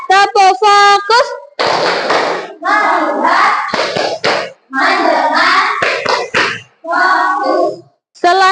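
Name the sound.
class rhythmic clapping chant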